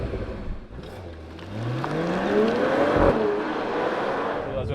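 A 2024 Mercedes-AMG CLE 53 engine and exhaust rev on a drive in Spain, pitch sweeping steadily upward to a loud peak before easing off, close and without speech.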